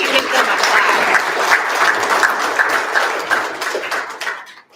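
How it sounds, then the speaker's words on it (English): Audience applause at an event honoring trailblazing West Virginia women, a dense, loud wash of many hands clapping that holds steady and then tapers off to quiet at the end. "So we can give them a clap."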